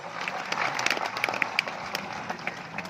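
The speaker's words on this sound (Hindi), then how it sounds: "तालियां बजाओ इस बात के ऊपर।" An audience at a spiritual discourse in Depalpur, Indore claps in a brief burst of scattered, crisp claps that thin out toward the end.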